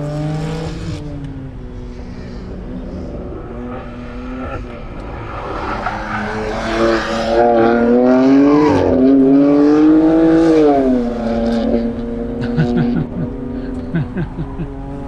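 A Skoda Fabia 1.0 TSI or BMW M4 GTS accelerates hard on a race track, its engine note climbing steadily through the gears, loud and close from start to finish.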